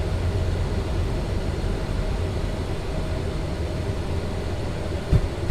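Simulated Embraer E-Jet airliner touching down in Microsoft Flight Simulator 2024 on a London City approach, a steady loud rumbling roar of engines and rolling wheels with a brief thump near the end, no talk.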